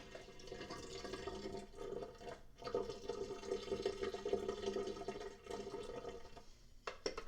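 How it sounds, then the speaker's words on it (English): Cold water splashes and sloshes softly, poured and swirled over fresh homemade butter in a container to rinse out buttermilk, a faint continuous liquid sound with brief pauses. "I am going to pour cold water over our butter fat now"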